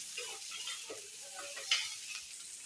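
Onions fry in sesame oil in a pan, giving off a soft, steady sizzle with a few faint stirring clicks, quiet and close with no voices.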